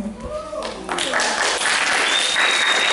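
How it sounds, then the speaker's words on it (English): Applause from a convention audience swells after a couple of seconds and holds as sustained clapping, with voices talking over it at the start. "we get an applause, people"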